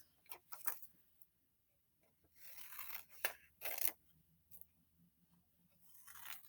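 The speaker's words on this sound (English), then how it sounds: "So let's cut them all out." Scissors cutting paper squares for a phonics lesson, heard as a few faint, close snips and paper rustles separated by quiet pauses.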